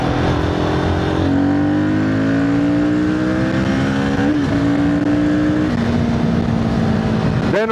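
Royal Enfield Guerrilla 450 single-cylinder motorcycle accelerating in third gear, its engine note climbing steadily in pitch with a couple of rising sweeps, loud under rushing wind noise.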